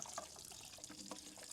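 Water draining and splashing out of a 2019 KTM 450 EXC-F motorcycle fuel tank into a container, a faint, steady trickle with small drips and gurgles, no voices.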